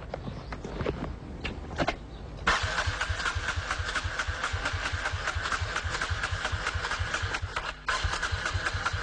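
A water-powered car's engine is cranked, catching after a couple of seconds and settling into a loud, steady, rapidly pulsing idle up close, with a brief dip near the end and no talking.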